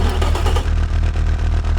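A tuned Daewoo S-TEC II 1.0L engine in the Automation game, running on 91 octane fuel, fires up and settles into a loud, steady, pulsing idle with a regular low throb, heard alone and close.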